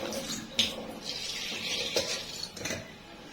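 Water poured onto salted lemons in a container for pickling, a soft close trickle and splash with a few light clinks of glass or utensils, moderately quiet and without talking.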